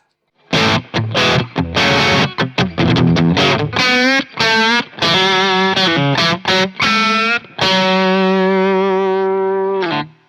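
Distorted electric guitar through a Fender Ultra Luxe Vintage Stratocaster humbucker pickup playing chopped riffs with a thick, saturated tone, ending on a sustained ringing chord; loud and close, no voices.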